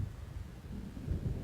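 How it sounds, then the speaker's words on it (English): Low rumbling thunder rolls steadily from an approaching storm in the Alan Wake video game, a distant, continuous murmur that swells slightly toward the end. "It seems there's a storm coming."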